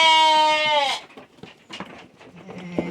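Young lambs on a farm bleat loudly at close range in one long quavering cry, followed by quieter scattered farmyard noises and shuffling.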